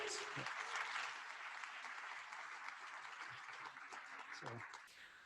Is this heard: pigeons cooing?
no